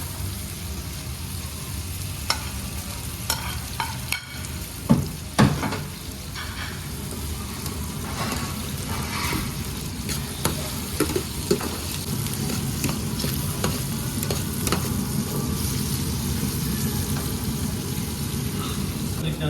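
Onions with red bell peppers and hot peppers fry in a pan for a Turkish menemen, a steady close sizzle with occasional stirring clatters and utensil knocks, one louder scrape near the middle.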